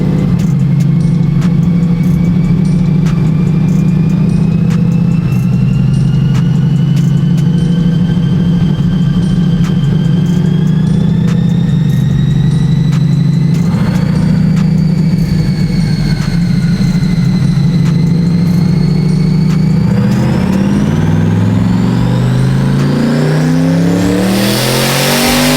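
A 1300 hp twin-turbo 427ci Corvette C8 E-Ray engine makes a pull on a dyno, a loud sustained roar that climbs steadily in pitch with turbo whine, building to a peak near the end.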